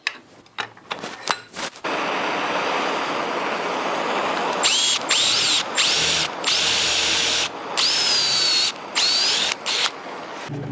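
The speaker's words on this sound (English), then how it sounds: "I tried to drill out those inside tubings with epoxy" A power drill bores out epoxy-filled metal tubing in a scrap-metal workshop, starting after a few short clicks and taps into a loud, sustained grinding whine that stalls and restarts in several short breaks.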